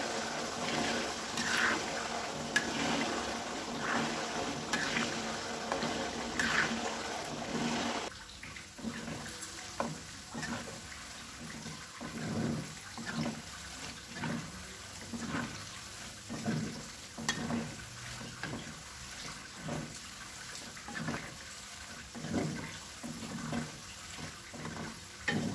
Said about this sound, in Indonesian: Dan kemudian kita masak sambil diaduk-aduk biar matangnya merata.